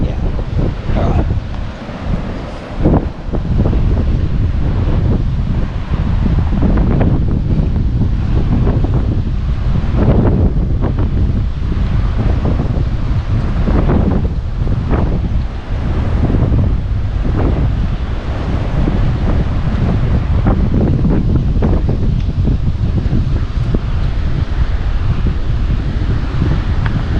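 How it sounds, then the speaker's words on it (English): Strong wind roars continuously across the microphone on the coast at East Cape, New Zealand, a loud, steady buffeting rush with gusty surges and possible surf underneath, without any talking. "Windy, in case you hadn't noticed."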